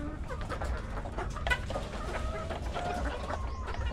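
Chickens cluck steadily in a busy farmyard, with overlapping calls near and far and no talking.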